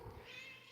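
A cat at an academy shelter gives one faint meow up close, a brief high rising cry over quiet room noise.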